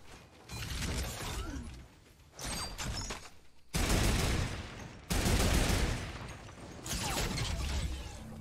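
Sniper rifle fire in the Fortnite video game: several loud, harsh broadband blasts arrive in separate blocks, each ringing on for a second or more, with brief quieter gaps between and no talking.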